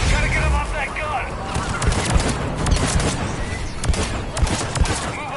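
Sustained bursts of gunfire from a mounted gun in the video game Mass Effect 3, with dense overlapping shots throughout, mixed with other combat noise and voices.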